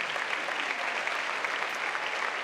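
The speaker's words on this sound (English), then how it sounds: "They have the hardest job here today, reading the names, so let's give them applause." Commencement audience applause in a large ceremony hall, a dense, even burst of many hands clapping at steady volume for a couple of seconds.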